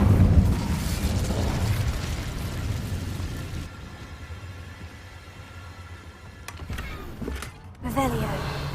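An Incendio fire spell from Hogwarts Legacy flares with loud rushing, bursting energy at the start, fading into a lower rumble, then a few sharp pops and a second surge near the end amid game ambience.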